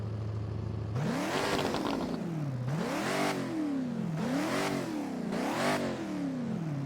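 Car engine in the Driving Empire video game, revving up repeatedly in four rising and falling sweeps over a steady idle, loud and close with no talking.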